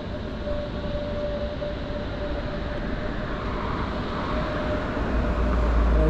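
A tram rolls along rails set in asphalt on a street in Ostrava, a broad, steady rumble with a faint tonal whine that grows slightly louder toward the end, heard from nearby with no voices.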